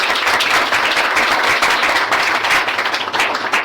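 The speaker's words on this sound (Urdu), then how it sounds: "خداوند کے لیے ہم تالیاں بجائیں گے" Church congregation applauding during a sermon, a dense, steady burst of many hands clapping together, fairly close and loud, with no talk over it.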